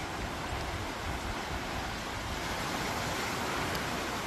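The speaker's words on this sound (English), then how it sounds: "The beach." Ocean waves washing onto a quiet beach, a continuous loud broadband surf roar with no talk.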